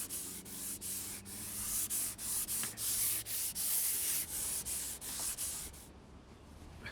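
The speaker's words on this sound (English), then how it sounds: "I'm now ready to give the wallboards and the filler a light sand back." Steady rhythmic rasping of a hand sander working back and forth over exterior wallboards and filler, close up, with short regular strokes and no talking.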